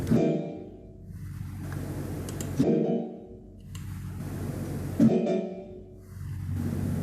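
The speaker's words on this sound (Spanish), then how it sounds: "las cuatro trompetas, ya se va al agudo más y suena así" Four trumpets play bright, sustained notes high in their range, in three phrases separated by short pauses.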